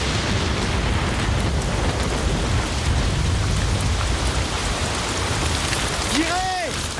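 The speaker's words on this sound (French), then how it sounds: "Ça suffit, je vous dis qu'il pleut, je le sens." Rain falls heavily and steadily, a dense continuous hiss with a deep rumble underneath, and near the end a short voice cuts briefly over the downpour.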